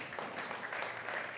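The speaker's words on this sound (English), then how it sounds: "we should clap for that" Church congregation applauding during a Christmas service, a brief, soft, steady patter of many hands clapping at a distance.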